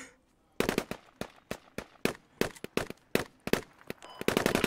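A light machine gun fires in the Squad video game: loud, sharp bursts of rapid shots in irregular groups, with a longer sustained burst at the end.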